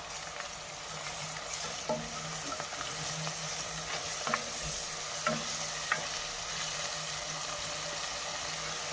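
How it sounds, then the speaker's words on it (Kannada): Ginger garlic paste sizzles and fries in a hot pan for a chicken pepper dry, with steady loud crackling and occasional stirring scrapes throughout, no voices. "ಇದನ್ನು ಚೆನ್ನಾಗಿ ಫ್ರೈ ಮಾಡ್ಕೊಳ್ಳಿ. ಶುಂಠಿ ಬೆಳ್ಳುಳ್ಳಿ ಪೇಸ್ಟ್ ಫ್ರೈ ಆಗ್ತಾ ಇದ್ದಂಗೆ"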